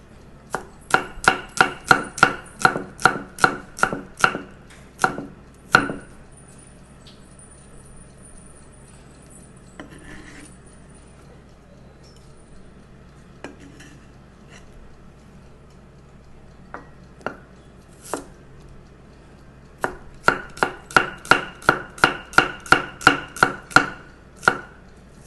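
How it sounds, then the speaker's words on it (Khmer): Rapid knife chopping of garlic and red onion on a board for a roasted Chhpen fish dish, heard as a steady run of sharp taps, then a quiet gap with a few scattered knocks, then another brisk burst of chopping. "ឥឡូវយើងហាន់ខ្ទឹមសរបស់ខ្ទឹមក្រហមរបស់យើង"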